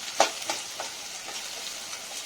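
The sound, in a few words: peanuts frying with onion in a pan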